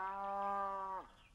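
A single long cow moo, steady and loud, dropping off sharply at the end, close and alone.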